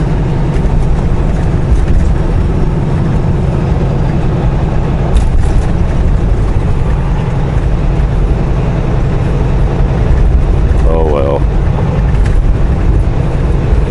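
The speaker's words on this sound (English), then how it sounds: "There's some rattling noises in this truck." Inside a truck on the move, a steady low road and engine rumble fills the cabin, with faint, intermittent clicking rattles from somewhere in the interior.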